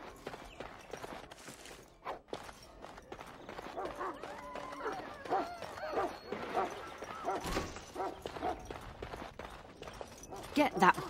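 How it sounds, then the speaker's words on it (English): A dog barks in a castle larder in the fantasy game Dragon Age Origins, sharp yips set over a busy game soundscape of footsteps and clatter, with a voice speaking. "Get that bloody mutt out of the larder."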